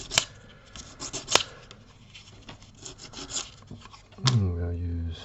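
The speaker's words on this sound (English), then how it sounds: "Just going to take a quality nail file, or rough this up a little bit." A nail file rasps against model rail track in a series of short, close scraping strokes of uneven loudness, ending in a louder rubbing scrape.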